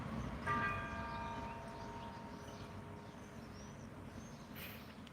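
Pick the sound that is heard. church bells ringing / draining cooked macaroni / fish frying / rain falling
church bells ringing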